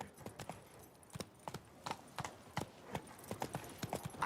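Hooves of a horse in The Witcher 3 clip-clop in a steady, fairly quick rhythm, moderately close, with no talk over them.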